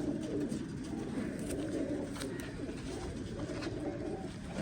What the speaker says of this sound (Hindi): बहुत शानदार कबूतर